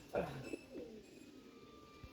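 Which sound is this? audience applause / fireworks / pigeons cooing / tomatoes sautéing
pigeons cooing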